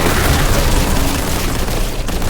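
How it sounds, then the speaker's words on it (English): A vortex grenade detonating in the video game Warhammer 40k Boltgun, with a loud, sustained roaring blast that fills the whole clip without letup. "Vortex grenade."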